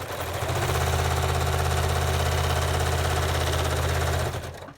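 A sewing machine stitching elastic onto a fabric face mask runs in one steady, close, loud burst of rapid needle strokes for about four seconds before slowing to a stop.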